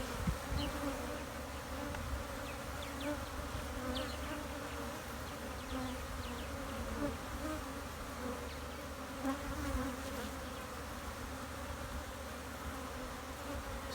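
Honeybees swarm and scuffle around apiary hives, a constant close buzzing drone with individual insects whizzing past, and no voices.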